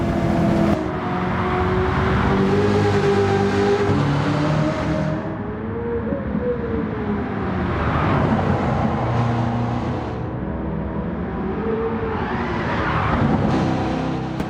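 A Nissan Silvia Qs in Gran Turismo 7 runs at a steady, loud engine drone throughout, its pitch rising and falling with revving and gear changes. It is heard alone, with no talking.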